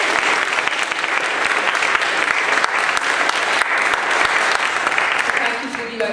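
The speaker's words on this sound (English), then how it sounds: "Can I ask you to just clap your hands and give them another round of applause?" A large audience at a Holocaust Memorial Day event claps steadily and loudly for a youth theatre performance, a dense, even roar of applause sustained throughout before fading slightly at the end.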